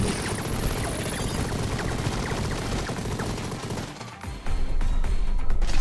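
Sustained machine-gun fire in the video game Mighty Goose, a dense, loud, continuous rattle that dips briefly and then resumes at full intensity.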